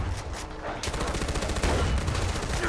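Rapid bursts of gunfire in Far Cry 4 rattle continuously, dense and loud, like sustained automatic shooting during an outpost assault.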